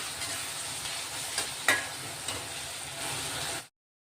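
Tomatoes and masala sautéing in a pan for a matki bhaji, a steady soft sizzle with a brief stirring scrape midway, continuing alone until it cuts off abruptly.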